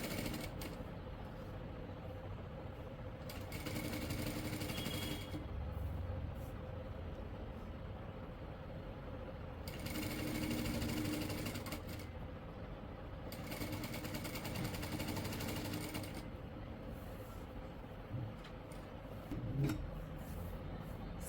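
A sewing machine stitches close alongside a fabric strip, its rapid mechanical whirring coming in three bursts of a few seconds each, separated by quieter pauses with soft handling sounds.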